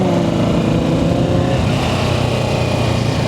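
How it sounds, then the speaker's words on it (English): A 2025 Kawasaki Ninja 650 ABS motorcycle runs with no exhaust fitted, a loud, raw, continuous engine drone with a rough buzzing edge, steady and close throughout. "I do not have an exhaust on my motorcycle yet."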